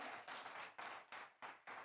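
A church congregation applauds in rhythmic waves, the clapping surging and breaking off every half second or so, faint and somewhat distant.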